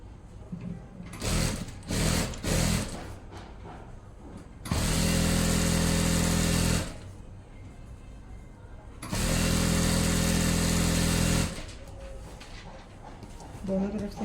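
A sewing machine stitches trousers in two loud, steady runs of about two and a half seconds each, with a few short bursts before them and quieter handling noise between.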